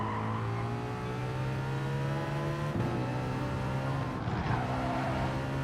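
Race cars in Gran Turismo Sport overtaking through the Alsace village track, a steady engine drone with shifting pitch and brief surges around gear changes, continuous and close throughout.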